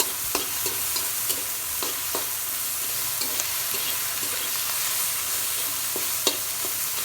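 Tomatoes and spices fry in a pan for an egg curry, giving a steady, close sizzle with scattered sharp clicks and scrapes from a spoon stirring against the pan.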